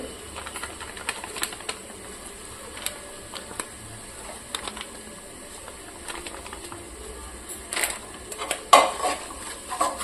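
Cauliflower fried rice with garam masala being stir-fried in a pan, with a utensil repeatedly clinking and scraping against the metal, a faint sizzle underneath, and a few sharper knocks near the end.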